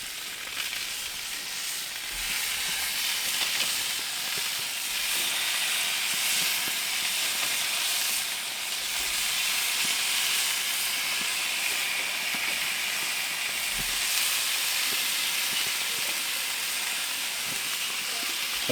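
Hamburger patties sizzle on grill grates in a steady, loud hiss that holds for the whole stretch, with faint scrapes as the patties are flipped.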